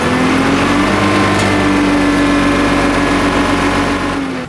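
The old engine of a 1957 Lima 24 dragline excavator drones loudly and continuously under raised throttle, a dense, sustained mechanical roar with a steady pitch.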